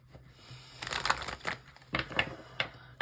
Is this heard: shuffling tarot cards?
yes